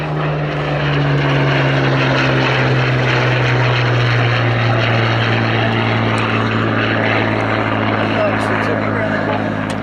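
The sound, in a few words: Hawker Hurricane fighter plane propeller engine flying at air show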